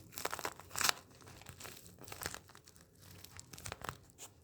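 Close, crisp crinkling of a chocolate bar's plastic wrapper with a sudden tearing rip, followed by softer rustling and handling, no voices.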